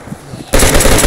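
Loud, close gunfire in DayZ bursts in suddenly after a quiet moment, a dense rapid volley filling the rest of the moment.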